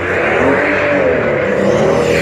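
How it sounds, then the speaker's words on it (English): A car peels out hard nearby, its engine roaring steadily with a rising whine and gritty tire noise throughout, loud and continuous without pause. "This car was fucking peeling out"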